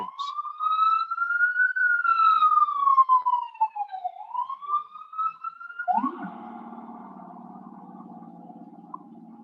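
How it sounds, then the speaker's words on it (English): A siren wails up and down nearby on a New York City street, then shifts abruptly to a harsher, steadier honking tone that fades somewhat toward the end. "Please excuse the sirens."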